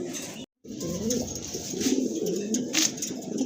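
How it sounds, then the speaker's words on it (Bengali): A pair of red checker racer pigeons cooing at a seller's loft, steady low calls close by that run almost the whole time after a brief gap near the start. "ফুল এক জোড়া রেড চেকার রেসার মাশাল্লাহ অলরেডি কিন্তু ডাকাডাকি শুরু করে দিয়েছে"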